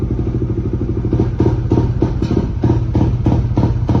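A motorcycle engine fitted with an Aracer RC Mini X ECU set to rumble/backfire mode revs with a loud, close, choppy rumble, punctuated by rhythmic popping bursts.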